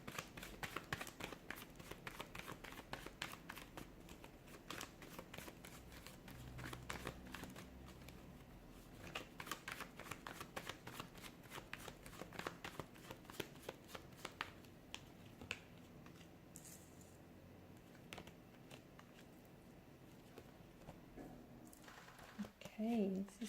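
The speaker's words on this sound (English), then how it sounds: "give the cards a shuffle and begin" A deck of tarot cards is shuffled quietly, with soft flicking and riffling clicks in quick irregular runs that thin out toward the end.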